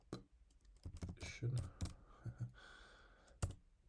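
Computer keyboard typing in short irregular bursts of clicks and key taps, close and moderately loud, entering a configuration command on a Cisco router in a small-network setup, with no talk.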